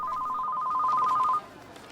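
A telephone rings for an incoming call in a Tamil film scene, steady repeated two-tone electronic bell tones for over a second, close and clear, then cutting off into quiet room tone.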